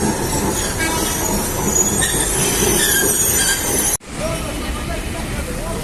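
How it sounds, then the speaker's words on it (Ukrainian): An old double-decker tram in Alexandria, Egypt rumbles in loudly on rails with a metallic wheel squeal and a hollow clatter, close and continuous; the noise cuts sharply, then carries on. "Це під'їжджає найстаріший двохетажний трамвай у світі."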